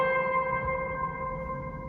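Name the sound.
Nord keyboard played with lots of hall reverb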